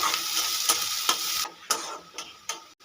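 Chopped onions frying lightly in a pan, a steady broadband sizzle broken by several sharp scraping stir strokes from a spatula, close and moderately loud with no voices.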